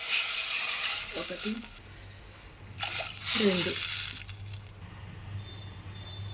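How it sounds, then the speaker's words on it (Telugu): Water from two pots splashes into a dal and coconut curry with soaked tamarind and coriander, in two rushing pours separated by a short pause, while a woman counts aloud. "ఇప్పుడు ఒక 2 చెంబులు వాటర్ పోసుకుందాం."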